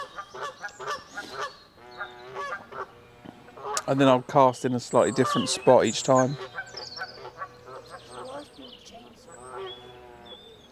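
Geese honk loudly and repeatedly at a lakeside pike fishing spot, a dense burst of overlapping calls rising in the middle and trailing off, with someone talking over them throughout.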